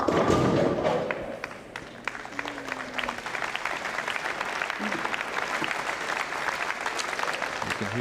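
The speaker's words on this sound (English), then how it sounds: "Hear the crowd in the background giving Eric a round of applause" Bowling crowd applauding at a televised tour event, a dense burst of clapping that swells at the start, then settles into sustained steady applause with scattered thumps, fairly distant, with no talk over it.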